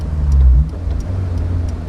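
A Honda S2000 engine while driving: a steady low hum that swells louder in the first moments, then settles into an even drone with faint road noise.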